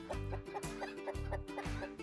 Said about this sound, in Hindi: उसके फार्म में बहुत सारे मुर्गे और मुर्गियां थीं।